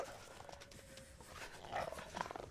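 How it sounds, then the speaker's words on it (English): Wolf snarls and panting from the survival game Misery, a short growling burst with a brief whine, fairly faint amid game background noise, rising slightly near the end. "Now, misery wolves are no joke"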